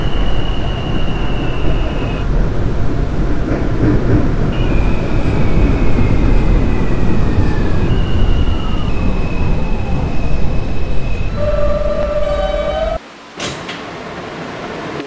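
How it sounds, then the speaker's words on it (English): A Manhattan-bound F Express subway train in the game Openbve rumbles steadily along the track, with rising and falling electronic motor whines and a brief high chime near the end before the noise drops. "This is a Manhattan-bound F Express train."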